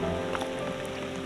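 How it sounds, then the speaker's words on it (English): Rain falls on the water of the Allegheny Reservoir, heard from a kayak as a soft, continuous hiss with scattered drops pattering close by. "this just appears to be rain"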